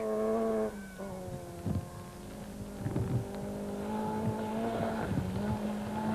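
A Team Total Toyota Conquest rally car drives Natal roads, its engine climbing through harmonic revving tones with gear-change breaks and brief scrabbling bursts, fairly close and sustained.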